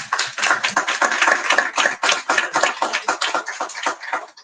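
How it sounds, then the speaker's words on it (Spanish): Audience applause at a bookshop presentation of a poetry anthology, dense and steady clapping from a room of listeners that tapers off near the end, with no voices over it. "Vamos a recibirla con un fuerte aplauso"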